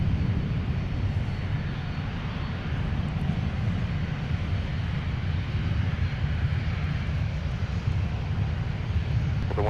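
A Delta airliner landing on runway 12 right at Minneapolis–Saint Paul airport produces a steady, loud engine roar with a deep low rumble, unbroken and continuous throughout, with no voices.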